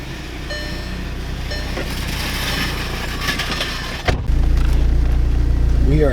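A Volkswagen GTI with a Eurodyne DSG tune sits idling and whirring mechanically, then the engine cranks and catches at first start, settling into a loud steady idle close by.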